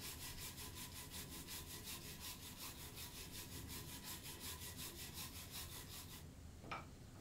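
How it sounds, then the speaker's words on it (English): A hand brush scrubs back and forth over a braided handle in steady, rhythmic strokes, close and fairly loud, then stops abruptly near the end. "Give it a go with an ordinary good old hand brush."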